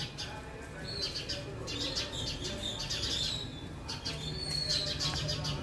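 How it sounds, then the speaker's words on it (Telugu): House sparrows chirp busily in a tree on a village morning, clusters of quick bright calls coming and going over a low steady background hum at moderate distance. "ఊర పిచ్చుకలు, అన్ని ఊర పిచ్చుకలే ఉన్నట్టున్నాయి."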